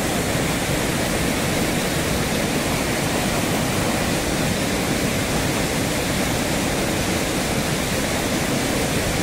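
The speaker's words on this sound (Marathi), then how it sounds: "या मोठ्या प्रमाणात पाणी इकडून येत आहे" A flooded Himalayan river near Dharamshala rushes past in a loud, continuous roar of water, close and steady throughout with no other sounds or talking.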